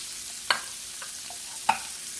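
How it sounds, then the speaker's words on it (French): Sliced onion and four garlic cloves fry in butter with a steady broadband sizzle, broken by two sharp stirring scrapes about a second apart; close and continuous, with no voices. "je vais mettre dans ce beurre, je vais mettre un oignon coupé en lamelles avec 4 gousses d'ail"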